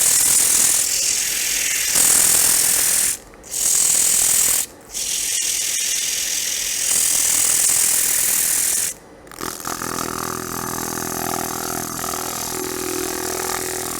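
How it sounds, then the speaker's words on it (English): A lathe-spun wood turning has its end grain sanded, giving a loud, steady abrasive whir broken by brief pauses before settling into a quieter, smoother rubbing hum. "Sand that end grain real quick right now."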